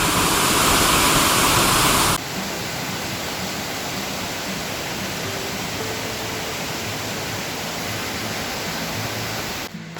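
A steady, broad roar of rushing water, loud and constant, like a waterfall close by, with no voices, at Cloudland Canyon State Park in Georgia.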